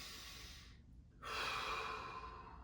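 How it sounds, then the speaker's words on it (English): A slow deep breath, an inhale followed by a longer, louder exhale through the mouth, close to the microphone and soft, during a seated breathing practice. "let's take 3 deep breaths"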